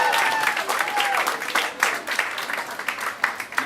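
A live audience in an event space gives a big round of applause, loud and sustained clapping from a crowd, with a voice briefly speaking over the start.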